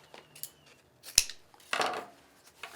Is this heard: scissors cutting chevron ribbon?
yes